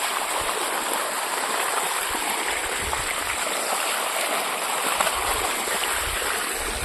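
Water gushes steadily from a pipe on a farm in a loud, continuous rushing stream that holds an even level from start to finish.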